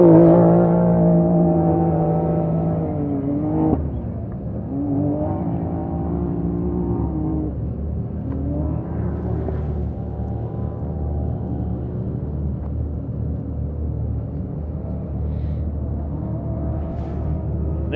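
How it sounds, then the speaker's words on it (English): A Can-Am Maverick X3 off-road race vehicle idles and revs on the start line at the Loveday 400, a loud steady engine rumble with a rising rev near the start that settles into a sustained drone. "This is the Can-Am Maverick X3."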